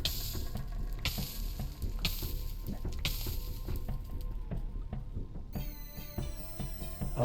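A player character catching fire while blacksmithing in the modded Minecraft game Terrafirmagreg: a continuous crackling sizzle punctuated by regular, roughly once-a-second bursts of hissing, then a brief metallic ringing at the end.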